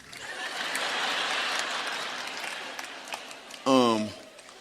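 An audience at a live comedy show claps steadily for a few seconds, a broad wash of applause that tapers off before a single voice speaks briefly.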